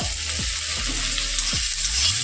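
Chopped onion, garlic and tomato sizzle steadily in hot oil in a pan for a vorta mash, with a few scraping stirs breaking the constant crackle; no one speaks.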